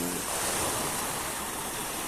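Steady wash of sea waves and surf heard from a small boat out on the open water, a continuous broadband rush with no talk, moderately quiet.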